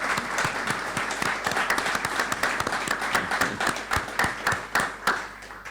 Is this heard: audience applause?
yes